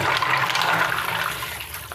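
Water gushes from a tap while mussels are rinsed in a kitchen sink, a loud close splashing rush that tapers slightly toward the end, with no talk.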